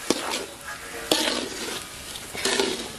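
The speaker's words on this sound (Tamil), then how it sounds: "இப்போ நெய்யிலே வந்து ரவையை வறுத்தெடுத்துக்கலாம்." Semolina roasts in hot ghee for kesari, giving a soft, steady sizzle broken by a few sharp scrapes and stirs of a spoon against the pan.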